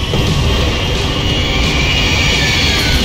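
An airplane's engine roars steadily in the video game Max Payne 3, a loud, unbroken drone that stays constant throughout, with no speech.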